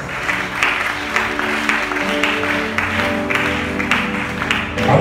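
A church congregation applauds the Lord, with a sustained burst of clapping and crowd noise over a held musical tone, and no clear talk.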